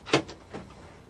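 Large kitchen drawers in a 2021 Dethleffs Aero90 caravan sliding shut on soft-close runners: a short muffled knock, a quieter follow-on tap, then a gentle closing thud, all close by.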